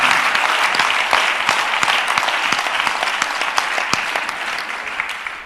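Congregation at a church convention applauding, a sustained wash of many hands clapping at close range, steady and loud before tapering slightly at the end, with a few voices mixed in beneath.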